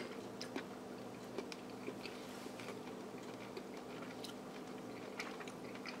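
Someone chewing a bite of pork and andouille sausage chili, with faint, soft, irregular mouth clicks and moist chewing sounds close up over a quiet room hum.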